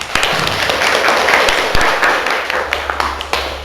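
A seventh-grade Islamic education class bursts into hand clapping, a continuous crackle of many sharp claps with a low hum beneath and little talk.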